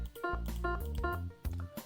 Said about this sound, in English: It's actually a piano key.